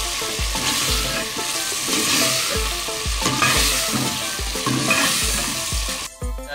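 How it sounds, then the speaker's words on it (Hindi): Chicken and finely chopped tomatoes fry loudly in a pot for achari chicken biryani, with a steady close sizzle and regular stirring thumps of a spoon against the pot, and no voices. "चिकन जो है वो भुन गया है।"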